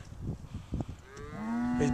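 A black cow moos, a low drawn-out call swelling at the end of the clip, following a few seconds of soft rustling and thumping.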